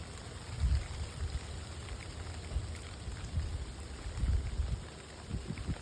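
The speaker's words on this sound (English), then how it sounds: "Oh, that rain sounds good on the leaves." Steady rain falls on leaves outdoors at night, a dense, continuous patter with soft low rumbles and no voices.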